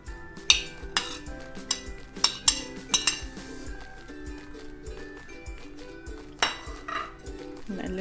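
Tuna and bean salad ingredients are stirred in a bowl, and a utensil clinks and scrapes against it in repeated sharp taps, loudest near the start, with softer mixing in between. Nobody talks.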